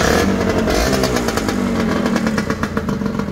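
A Honda Phantom 150 two-stroke motorcycle with a water-cooled engine runs on premixed fuel, giving a loud, close, steady buzzing engine drone with a rapid pulsing rattle and no talking.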